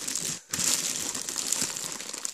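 Plastic wrap crinkles and rustles steadily around a bulky Final Fantasy XV Ultimate Collector's Edition box, close up, with one brief pause early on before the crackling resumes.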